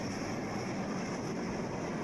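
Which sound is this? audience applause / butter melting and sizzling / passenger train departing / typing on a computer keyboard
passenger train departing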